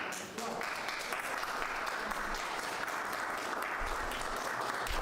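Steady applause from a crowd at a presidential inauguration, continuous and fairly even throughout, with some voices mixed in.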